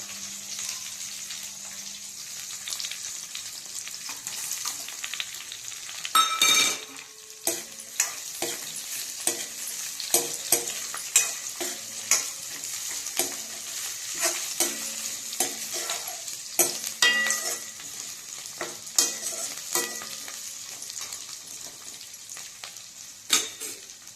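Washed tamarind and a garlic bulb hit hot oil in a pan and are stirred, making a continuous sizzle broken by repeated sharp scrapes and knocks of the spoon over about twenty seconds, close up with no talking.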